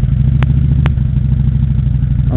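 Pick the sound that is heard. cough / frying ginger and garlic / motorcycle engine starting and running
motorcycle engine starting and running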